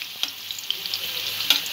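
Capsicum frying in oil in a kadai, a bright steady sizzle broken by a few sharp crackles and spatters, close and alone with no talking.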